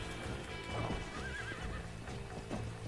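A horse in the Red Dead Redemption video game gives a whinnying neigh over steady clip-clop hoofbeats and game ambience, at moderate level.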